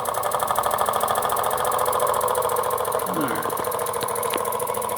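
A Jensen #70 toy steam engine, USA edition, runs at about six pounds of pressure with a steady, rapid mechanical chugging throughout, close and continuous. Someone briefly speaks over it.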